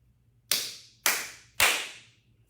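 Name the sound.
three hand claps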